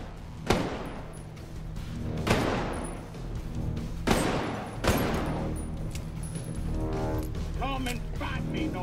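Video game firefight with heavy gunfire: several loud, echoing shots and bursts spread over the whole stretch, above a constant low rumble and scattered effects.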